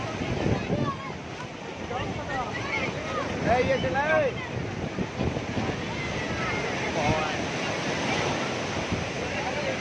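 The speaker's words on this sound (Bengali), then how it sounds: "ঢেউটা দেখো কত ঢেউ।" Ocean waves break and wash around the listener amid gusty wind noise, a continuous rough roar with surging swells; people talk and shout over it.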